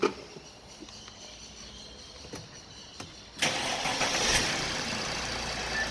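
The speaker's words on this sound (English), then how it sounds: "Okay, so I've started the vehicle up." A Mercedes car with an air conditioning fault is cranked over after a quiet stretch of faint clicks, then fires and settles into a steady idle, heard close and alone.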